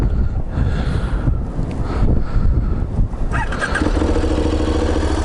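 A KTM 1050 Adventure motorcycle engine is started: a few seconds of turning over amid rough wind buffeting on the microphone, then the engine catches and settles into a steady, close idle.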